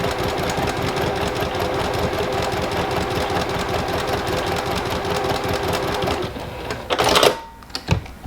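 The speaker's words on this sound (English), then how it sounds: "I have stitched all the way down the right hand side of that diagonal line" A sewing machine runs continuously at a steady rapid clatter while stitching quilting fabric pieces along a diagonal line, then stops, followed by a few louder handling clunks.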